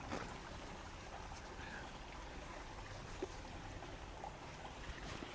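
A stream flows beside a walking route in Tokyo in summer, a faint, steady wash of running water that continues evenly throughout with no voices.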